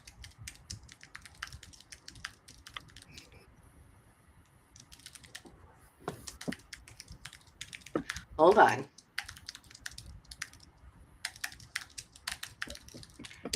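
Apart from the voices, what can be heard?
typing on a computer keyboard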